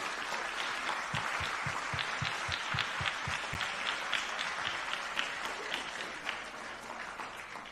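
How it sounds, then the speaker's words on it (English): Audience applause at a Formula SAE design review, a steady wash of many hands clapping in a hall, moderately loud and continuous throughout with a few louder individual claps near the start. "So how about a round of applause for yourselves?"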